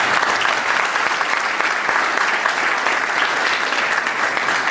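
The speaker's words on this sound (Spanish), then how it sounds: "Brindémosle un fuerte aplauso al doctor." Audience applause for a doctor after his introduction at a lecture on criminal law, a steady dense clapping that fills the whole stretch at close, even loudness without pause.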